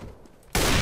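Auto sniper rifle gunfire in Counter-Strike: Global Offensive erupts suddenly after a quiet moment, a loud continuous burst of rapid shots filling the rest of the moment.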